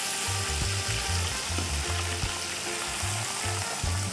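Big snapper pieces frying in hot oil in a pot for Jamaican escovitch fish give a dense, steady, loud sizzle that continues without a break, with a low hum running underneath.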